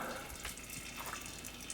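Transmission fluid dripping steadily from the drain hole of a Porsche with a Tiptronic automatic gearbox, a close, continuous trickle with soft splatter, heard alone.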